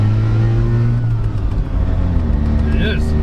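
An abandoned rotary-engined pickup truck drives along, its engine droning and revving loudly up close from inside the cab while people talk over it.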